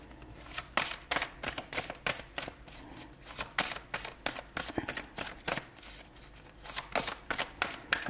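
Tarot cards shuffled and tossed down, a rapid series of crisp riffling bursts and slaps repeating in an uneven rhythm, close and clear with no talking.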